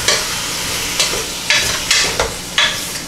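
Kimchi jjigae sizzles and bubbles hard in a pot, with loud, regular scraping stirs about every half second over a steady frying hiss.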